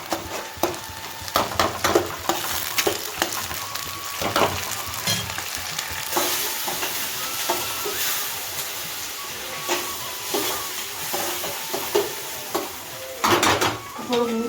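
Rice frying in a pan with tomato and chili crackles and sizzles continuously, broken by scraping stirring strokes and clatters from the spoon, close and moderately loud, with no speech.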